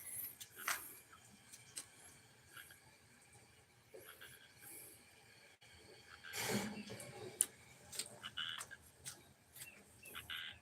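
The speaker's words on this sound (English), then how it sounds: "Sounds like there's a frog right here." Scattered raspy croaks sound from a frog nearby against a quiet, hissy background, with a louder burst of noise midway.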